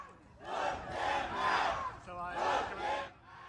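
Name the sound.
protest crowd chanting vote them out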